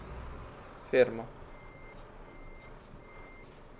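A truck in Euro Truck Simulator 2 manoeuvres with a low engine rumble, then a short burst of air brake and steady reversing beeps, while someone speaks briefly over it.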